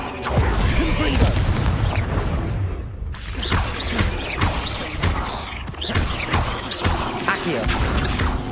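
Repeated Confringo fire blast spells cast in Hogwarts Legacy, a string of loud whooshing bursts and crashing impacts every second or so amid game effects, with no talk.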